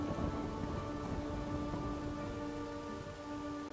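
Steady rain hisses over a low rumble of thunder in the video game Horizon Forbidden West, an even, continuous storm bed with tonal game music layered in and no talking.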